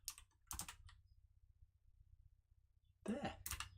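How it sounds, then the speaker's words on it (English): Quick bursts of computer keyboard typing, close and fairly quiet, separated by a stretch of near silence. "Come on, DJ, type properly"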